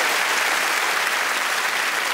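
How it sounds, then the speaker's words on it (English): Studio audience clapping on a comedy panel game show, a dense and even wash of applause, fairly loud and close, with no voices over it. "but you might as well clap them anyway"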